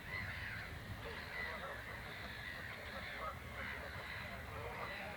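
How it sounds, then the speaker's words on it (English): Birds including cormorants and black-headed gulls call and caw in a busy outdoor flock, several voices overlapping against steady wind or background noise. "so many different varieties of birds here"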